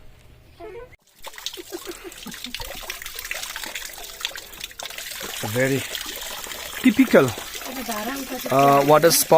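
Water trickles and splashes from a stone spout of the traditional pot style used by the Limbu people, in misty hills at Terhathum in Nepal, a steady close pour with someone talking over it.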